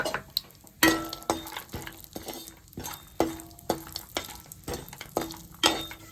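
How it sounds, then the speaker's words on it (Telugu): Cashews frying in melted butter in a pan for kaju chilli paneer, a gentle sizzle under repeated metallic clinks and scrapes of a spoon stirring them at an uneven rhythm. "ఇప్పుడు మనం జీడిపప్పు వేసుకొని వేపుకుందాము"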